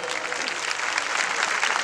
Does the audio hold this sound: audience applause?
yes